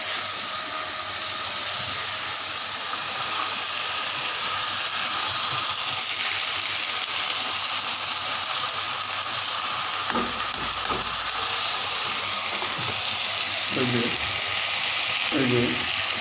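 Half-boiled vegetables tipped into frying tomatoes and stirred in a pan, a loud continuous sizzle and steam hiss throughout, with a few short scraping stirs near the end.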